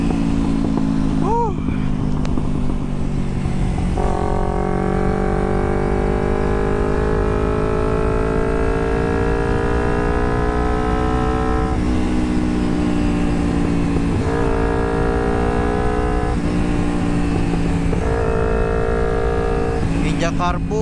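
A 2009 Kawasaki Ninja 250 with a carburetor is ridden, its engine droning loud and near, climbing in pitch through each gear, dipping at shifts and rising again.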